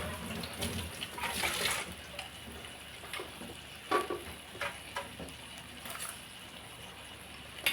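Vegetables stir-frying in a pan give a soft, steady sizzle with intermittent scraping and clatter from stirring, fairly faint and close, with no talking.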